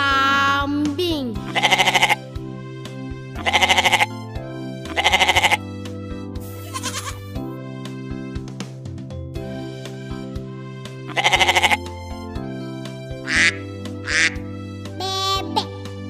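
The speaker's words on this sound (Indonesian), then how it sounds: "Kambing." A farm goat bleats in several loud, wavering cries spaced a few seconds apart. Its calls carry over music and stand out clearly as the loudest bursts.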